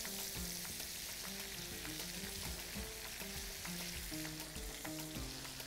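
Beef fillet sizzling steadily in a hot pan as it is flipped, continuous frying hiss with scattered pops and faint utensil clinks, close by and without talk.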